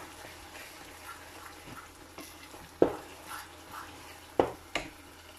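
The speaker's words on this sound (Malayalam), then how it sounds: "ഒരു 2 മിനിറ്റ്സ് കൊണ്ട് ഇതുപോലെ ഇളക്കിക്കൊണ്ട് കൊടുക്കുക" Rava kesari, a semolina dessert, is stirred in a pan, giving soft scraping and a faint sizzle with a few sharp spoon knocks against the pan, close and quiet.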